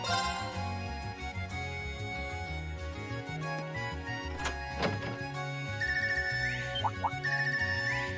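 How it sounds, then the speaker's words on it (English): A phone ringtone plays in the Trails of Cold Steel 3 video game, a steady repeating electronic melody over continuous game music, loud and sustained with bright chime-like tones near the end. "Oh, it sounds different from the normal ringtone."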